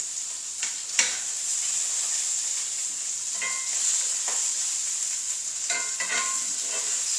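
A spoon stirs pasta sauce with sausage in a pot, scraping and clinking in scattered strokes over a steady, quiet simmering sizzle.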